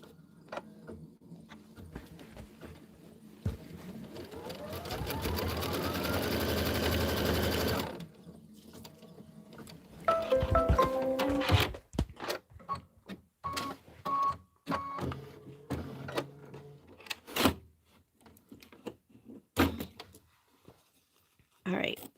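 A sewing machine stitches a straight seam down a pieced quilt block, a steady loud whir lasting a few seconds before stopping, followed by handling clatter and a person talking.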